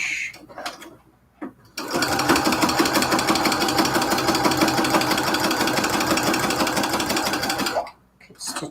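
A sewing machine back-stitching fabric for quilted cathedral-window curtains, running in one loud, fast, even mechanical chatter for about six seconds, close up, with brief handling noises before and after.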